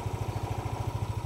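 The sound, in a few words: Yamaha Aerox 155 scooter engine running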